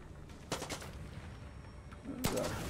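Gunfire in the Far Cry 6 video game: two loud bursts of shots, one about half a second in and another near the end, over a steady background din.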